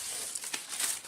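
Close, soft crinkling and rustling of tissue paper being crumpled, a continuous papery hiss with a few sharper crackles.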